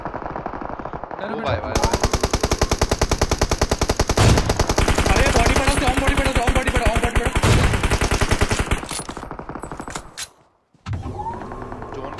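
Rapid automatic gunfire rattles through a firefight in the BGMI battle royale game, a loud, dense stream of shots lasting several seconds before a brief pause, with excited players talking over it.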